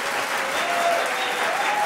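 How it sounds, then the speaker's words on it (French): Studio audience applauding steadily at a recording of the radio quiz Le jeu des 1000 euros in Grenoble, a dense sustained wash of many hands with no talk over it. "on va recommencer avec, merci beaucoup, avec des applaudissements et ensuite le jingle"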